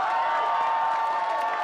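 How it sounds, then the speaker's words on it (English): A short burst of crowd applause and cheering plays as a steady, dense wash of clapping and voices at a moderate level throughout. "Let me go ahead and give you a round of applause for chiming in with us."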